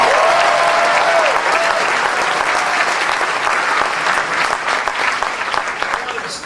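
Loud, sustained audience applause fills a hall at a political speech, with a brief whoop at the start, the clapping staying dense and close throughout before easing slightly at the end.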